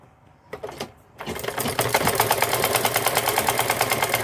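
A sewing machine stitching the lower seam of an A-shape gown with a turtle neck: after a few short starts it runs steadily in a fast, even, close-up clatter.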